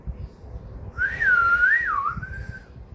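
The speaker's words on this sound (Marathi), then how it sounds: "मला सिटी वाजत येतं बाजू बघा" A person whistles one sustained, wavering tone lasting about two seconds, close and clear over a faint low background rumble.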